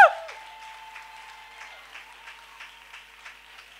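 A church congregation applauds and cheers in praise of the Lord, a faint, steady patter of many hands clapping with scattered louder bursts, heard at a distance with a low tone running beneath.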